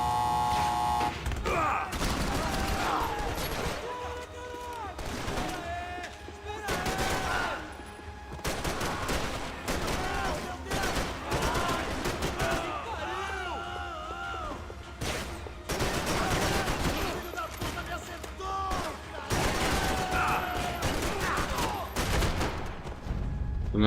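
Rapid bursts of gunfire from the video game Max Payne 3, dense fusillades and machine-gun volleys with booms, continuous and loud, with no one talking.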